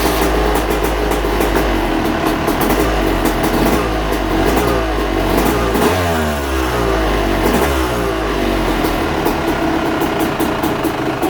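A motocross dirt bike engine fires up and revs loudly, rising and falling through repeated throttle blips as it warms up after radiator repair, running steady and close throughout with no talking.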